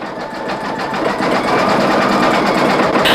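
A single-needle embroidery machine stitches a satin stitch around a round appliqué on an in-the-hoop mug rug, a steady, loud, rapid whirring hum that runs continuously without talk.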